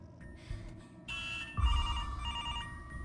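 A telephone rings with a bright electronic tone that starts partway through and keeps sounding steadily over low room noise, with no talking.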